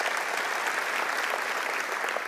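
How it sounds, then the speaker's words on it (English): A church congregation applauds together, dense, sustained clapping from a large crowd indoors that holds steady throughout. "one more time, put your hands together for your church"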